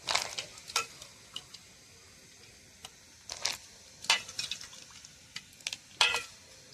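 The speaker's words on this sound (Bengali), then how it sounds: "বাদাম, কিশমিশ, কাজু একসঙ্গে করে একটু ধুয়ে নেব জল দিয়ে।" Peanuts, raisins and cashews being washed together in water, with sharp intermittent splashes and clinks of nuts sloshing in a bowl, clustered in short bursts, close up and fairly quiet between strokes.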